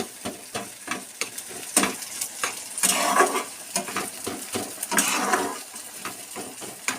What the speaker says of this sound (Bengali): ডিমটাকে দিয়ে আমি এভাবে নাড়াচাড়া করব, ডিমটাকে ভালোভাবে